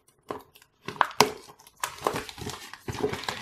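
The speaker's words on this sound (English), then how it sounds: "So let's cut off some of this plastic here." Plastic wrapping is cut and peeled off a Nuu Mobile R1 phone box in bursts of close crinkling and crackling, with brief sharp snips between pauses.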